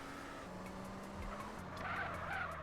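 A car in GTA San Andreas skids during a driving-licence test and cannot stop: a steady tyre squeal and engine drone run throughout, swelling louder toward the end, with no voices.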